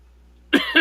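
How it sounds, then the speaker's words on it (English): After a quiet pause, someone coughs twice close to the microphone, two short harsh bursts in quick succession. "damn fucking cough"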